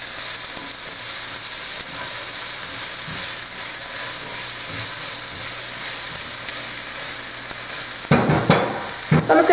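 Sauerkraut cooks in a pan with the juices and browned bits from sausages, giving a loud, steady sizzle and hiss up close, with sharper crackles and a few scraping stirs in the final seconds.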